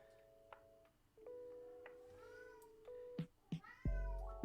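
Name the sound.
cat meowing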